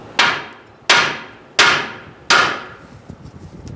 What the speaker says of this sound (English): give that a few whacks to see if it comes out